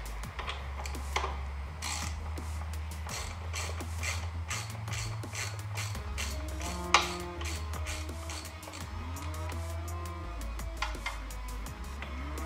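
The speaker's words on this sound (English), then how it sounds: "I'm gonna take these 2 3/8 bolts off." A ratchet turning off 3/8 bolts on a Ferris Z2 mower, rapid clicking bursts in repeated runs, close and fairly quiet, with faint background hum and no talking.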